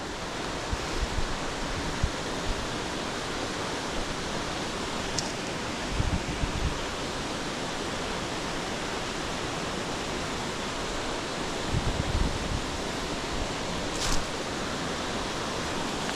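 Steady, loud rushing of a large volume of water along a hiking trail, a continuous broadband roar with a few brief low thumps, no voices.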